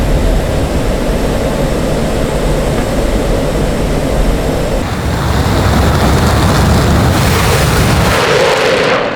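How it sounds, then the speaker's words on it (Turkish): F-16C jet taking off in Digital Combat Simulator, a loud continuous engine roar that swells in intensity partway through, filling the whole clip with no talking. "Ardından gördüğünüz gibi uçak kalkıyor."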